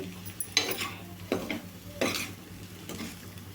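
Ivy gourd fry being stirred in a pan, a few distinct scraping strokes of the spatula against the metal over a faint steady sizzle, spaced roughly every second.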